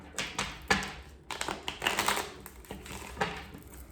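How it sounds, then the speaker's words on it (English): Tarot cards being shuffled by hand, a fairly faint run of quick riffling and tapping bursts in irregular clusters, close by with no voice over it. "Let's shuffle one more time."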